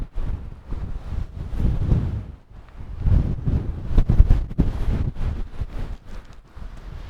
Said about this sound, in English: Oh no, it's getting windy again now.